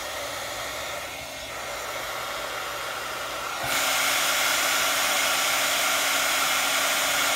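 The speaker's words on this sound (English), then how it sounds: "Turn my heat gun on. I'm not gonna talk while this is running." A heat gun runs steadily for heat embossing on a Christmas tag, a constant near whooshing roar that steps up louder partway through and holds alone without talk.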